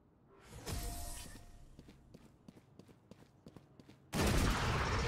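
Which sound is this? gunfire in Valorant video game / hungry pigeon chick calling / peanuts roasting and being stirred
gunfire in Valorant video game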